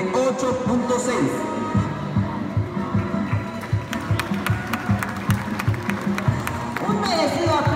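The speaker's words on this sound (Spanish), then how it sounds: "Fuerte y merecido los aplausos" A crowd applauds at a secondary school graduation ceremony. Sharp clapping builds into a dense run of claps over crowd murmur and a voice over loudspeakers, moderately loud and reverberant.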